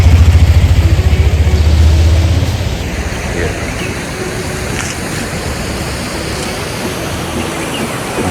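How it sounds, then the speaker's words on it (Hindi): A mountain waterfall near Chakrata rushes in a steady, loud, broadband roar that runs throughout, with a low engine-like hum fading out in the first couple of seconds. "ये देखिए झरने की कलकल की आवाज़ कितनी मधुर सुनाई दे रही है"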